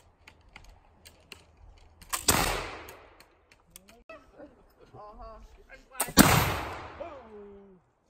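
Two loud muzzleloader rifle shots crack out at an outdoor shooting range, each with a trailing boom, among clicks and handling noises, while people talk quietly between them.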